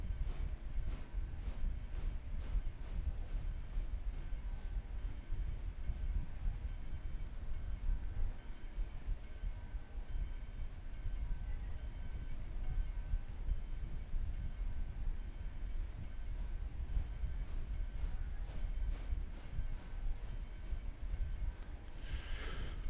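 Steam locomotive in the railway game Railroader, a low, continuous rumbling chug with faint hissing above it, steady and fairly quiet for the whole stretch, with no one talking.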